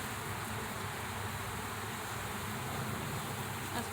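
Honey bees from a shaken hive frame drone in a dense, continuous buzz, steady and fairly faint, with no voices.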